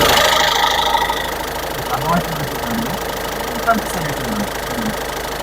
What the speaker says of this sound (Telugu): ఇంజన్ అయితే చాలా సైలెంట్ ఉందండి